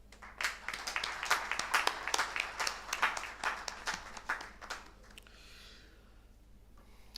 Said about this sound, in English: Now, with a big round of applause